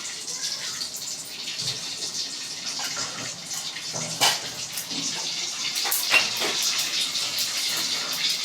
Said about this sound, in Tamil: கடுகு நல்லா பொரியுது பாருங்க.